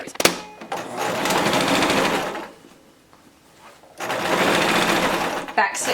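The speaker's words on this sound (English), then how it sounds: "Back stitch over prior seams. That's just prudent sewing, kids." Sewing machine back stitching over earlier seams on a fabric face mask, two loud close bursts of rapid motor-driven needle chatter separated by a quiet pause, with a clack at the end.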